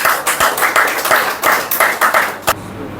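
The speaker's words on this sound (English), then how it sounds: "So a big round of applause for everybody who comes here for giving the presentation." An audience applauding presenters at a teacher presentation morning, with irregular bursts of hand claps rising and falling over a couple of seconds before fading out.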